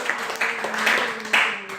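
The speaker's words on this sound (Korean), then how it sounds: "박수" A church congregation applauds during a sermon, a steady wash of clapping with faint murmured voices mixed in, lasting under two seconds at moderate volume.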